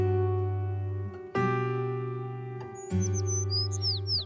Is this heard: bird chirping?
yes